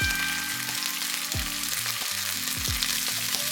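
Chili and edamame frying in a pan with garlic and ginger, a dense, even sizzle close up, with a few light stirring knocks under a soft background melody.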